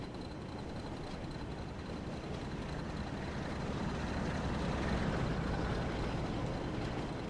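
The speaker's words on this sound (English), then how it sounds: "Here comes a train." A passenger train passes in Train Sim World 4 on the Northern Trans Pennine line, a steady low rumble that swells slightly midway and holds throughout, with no talk.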